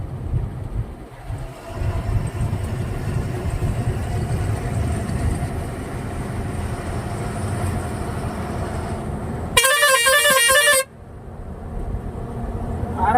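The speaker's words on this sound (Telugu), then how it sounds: "ప్రతి టర్నింగ్ దగ్గర హారన్ కొట్టుకోవాలి." A vehicle on a winding hill ghat road gives one loud horn blast lasting about a second over the steady rumble of the engine and road noise.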